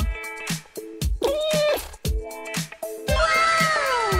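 Several kittens meow in quick succession, high and close, some calls overlapping into a louder chorus near the end.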